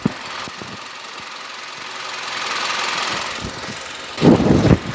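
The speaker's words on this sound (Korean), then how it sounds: "총평에 앞서서 본넷 한번 열었는데요 바로 엔진 소리 한번 들려드릴게요" A Chevrolet Malibu 2.0 turbo engine idles with the hood open, a soft, steady hum close by with faint ticking, ending in a louder burst of handling noise.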